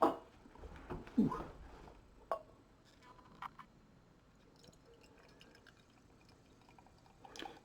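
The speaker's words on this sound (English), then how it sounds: "Yeah, it pours that kind of mahogany brown." Founders French Toast Bastard, a barrel-aged beer, pours from a bottle into a glass in a few soft gurgling splashes, then quiet faint fizz and small drips follow.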